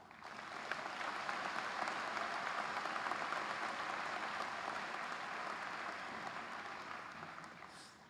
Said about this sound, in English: all of them deserve another round of applause